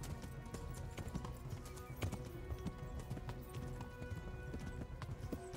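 Galloping horse hooves in the video game Kingdom Come: Deliverance during a horse race: a steady, dense clip-clop of hoofbeats with an occasional whinny, continuous throughout with no talking.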